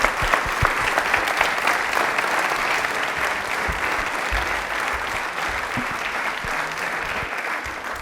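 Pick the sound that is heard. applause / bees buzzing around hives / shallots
applause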